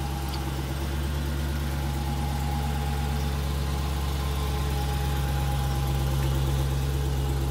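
A 2015 Dodge Challenger R/T Scat Pack V8 idles with a steady, deep rumble, holding an even low throb close by for the whole stretch, with no talk over it.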